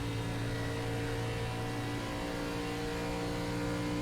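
An ARCA Menards Series race car in the iRacing simulator drones steadily on throttle around Las Vegas Motor Speedway, a loud, constant, even-pitched engine tone that holds for the whole stretch.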